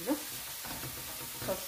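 A pan filling seasoned with ginger, paprika and chili stirred while frying, a brief burst of sizzling with soft scraping of the spoon against the pan.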